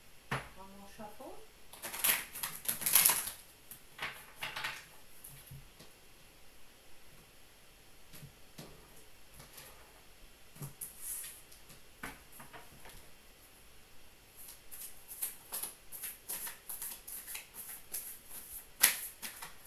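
Quiet, close-up riffling and flicking of playing cards in short bursts, with soft taps and pauses between shuffles.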